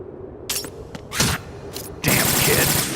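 Gunfire in Metal Gear Solid 2 on PS5: a few quick shots, then a dense burst of rapid fire with metallic clatter that holds to the end, loud and close.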